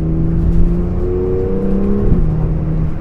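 BMW M2 with the N55 engine accelerating, a loud, steady engine drone with rising harmonics and a brief shift-like dip near the end, close and continuous with no talk.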